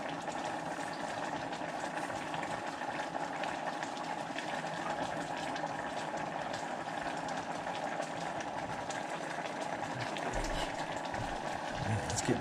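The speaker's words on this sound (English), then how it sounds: "We give our noodles a stir over here." Noodles being stirred in a pot of boiling water, a steady rolling bubble and hiss throughout with faint sloshing near the end.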